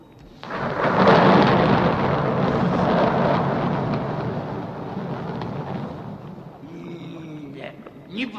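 A loud rumble of thunder rolls in, swells, then slowly fades out, followed by a few faint knocks and clicks at the end.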